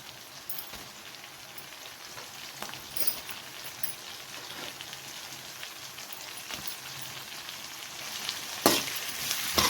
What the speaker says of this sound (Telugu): కొంచెం సేపు ఫ్రై చేసుకోవాలి ఆనియన్స్ కలర్ చేంజ్ అయ్యే వరకు